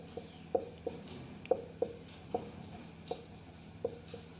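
A teacher writes equations on a board during a physics lesson on electric dipoles, chalk or marker making about eight short taps and strokes at an uneven pace, quiet and close, with no speech.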